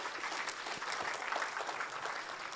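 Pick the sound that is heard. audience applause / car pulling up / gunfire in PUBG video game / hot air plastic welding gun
audience applause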